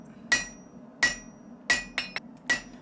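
Five sharp metallic hammer strikes on hot steel against an anvil ring out at a slow, steady pace, each with a bright clang, plus a couple of lighter taps in between.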